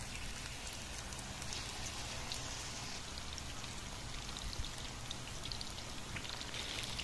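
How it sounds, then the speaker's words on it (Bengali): Bombay chapati sandwich frying in medium-hot oil, a faint, steady crackling sizzle with dense tiny pops throughout and no talk. "একটু মিডিয়াম অবস্থায় আমরা ফ্রাই করে নেব এটাকে।"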